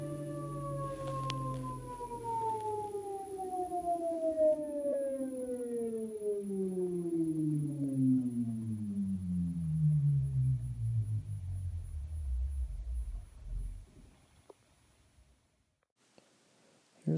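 A Nissan Leaf electric motor coasting down after throttle is cut to zero gives a whining tone that glides smoothly downward over about twelve seconds, fading to quiet with a few clicks at the end.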